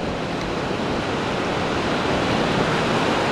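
Ocean surf at the water's edge of South Beach, Washington, a steady broad roar of breaking waves washing on sand with wind mixed in, continuous and loud, with no voices.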